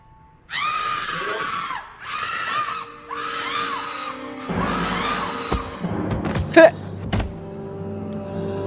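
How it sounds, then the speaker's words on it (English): A person screaming repeatedly in several long shrill bursts, followed by knocks, thumps and other noises. "Stop screaming, cat lady."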